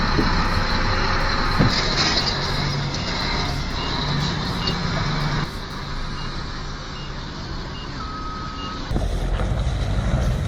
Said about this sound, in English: This dump truck unloading a bulldozer looks like a recipe for a mechanical disaster.